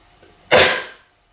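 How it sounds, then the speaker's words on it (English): A single sharp sneeze bursts out after a brief quiet moment, loud and close, then fades into silence. "oh, I'm gonna sneeze"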